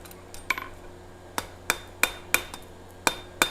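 Hammer blows ring out on an anvil at a blacksmith's shop, about seven sharp metallic strikes in an uneven rhythm, each bright and ringing briefly, fairly close over a quiet room.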